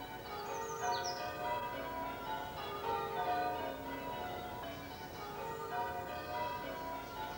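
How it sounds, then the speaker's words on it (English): Church bells ring repeatedly at a steady measured pace, bright and resonant with overlapping tones at moderate distance, with birds chirping faintly in the background. "He's ringing the bell so all Ambridge will know."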